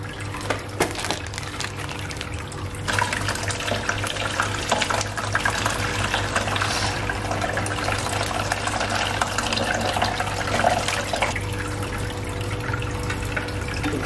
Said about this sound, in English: I'm just gonna pour the Corys into this net right here and then put them straight into the